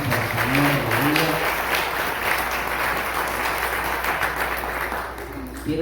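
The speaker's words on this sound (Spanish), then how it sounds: "Damos aplausos a Cristo, hermanos" Congregation applauding for Christ during a church service, a steady wash of clapping sustained throughout with a voice or sung tone rising faintly over it near the start.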